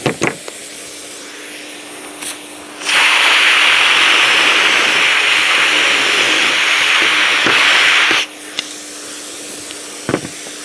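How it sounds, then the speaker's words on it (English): Power drill with a cutter boring holes in a Parf Guide cutting station build, one sustained high whining drill run of about five seconds, loud and close, framed by quiet clicks before and after. "drill back on."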